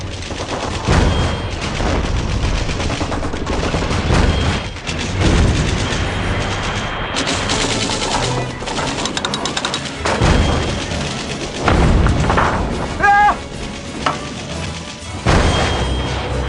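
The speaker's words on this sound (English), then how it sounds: "Manning their 75mm cannon, they continuously fired at the enemy." Dense, loud gunfire and heavy booming blasts from a 75mm cannon rattle on continuously in Second World War fighting at Bataan, bursts of rapid shots overlapping deep cannon-like thuds.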